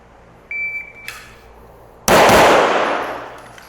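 Pistol shot from a CZ Shadow 2 during a split drill, a single sharp, loud blast followed by a long ringing decay, preceded by a faint electronic beep and a lighter click.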